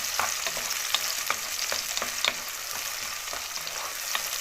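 Peppers sizzle and crackle steadily in hot oil as they fry for a shrimp soup, with close, regular stirring scrapes ticking through the sizzle.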